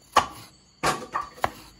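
Three sharp knife chops through garlic on a cutting board, close and crisp, spaced unevenly with quiet gaps between them and no talking.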